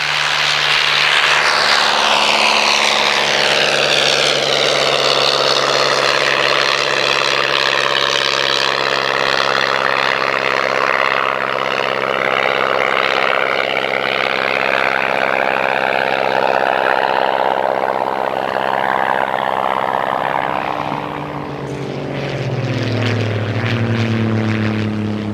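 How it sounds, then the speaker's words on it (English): A Miles Messenger light aircraft with a 140 horsepower de Havilland Gipsy Major engine drones loudly and steadily, its pitch gliding and the tone shifting as it passes, with a brief dip and change near the end. "Powered by a 140 horsepower de Havilland Gypsy Major engine"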